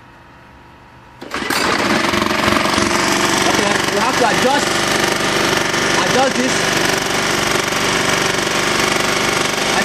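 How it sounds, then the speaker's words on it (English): A small engine on a homemade tank model starts abruptly after a brief quiet moment, then runs loud and steady with a harsh rapid rattle, while someone speaks briefly over it. "As you can see, the engine is running."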